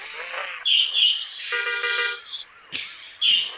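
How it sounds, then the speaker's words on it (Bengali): Horn in the Bus Simulator Indonesia game, heard as loud, bright electronic tones in several bursts with short gaps, close and dominant, with chirpy bird-like sounds between. "হর্ন দিলাম।"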